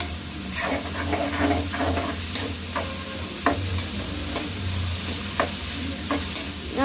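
Vegetables sizzle in oil over a high flame for fried rice, with a continuous frying hiss and repeated scraping, clattering strokes of a spatula tossing them in the pan.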